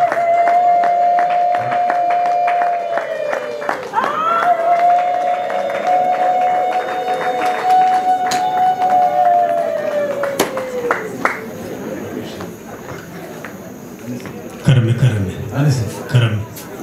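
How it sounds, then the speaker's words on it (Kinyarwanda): Wedding reception guests applauding with a sustained, high wavering ululation rising over dense clapping and crowd noise, continuous and close, fading later into scattered claps and voices. "mbasabe umwakirize amashyi n'impundu menshi"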